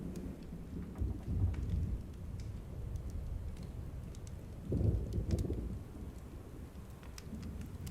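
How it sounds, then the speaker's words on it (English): Steady rain falls while low rolls of thunder swell twice, a soft distant rumble under a continuous hiss of drops, with no voices. "Sounds like thunder."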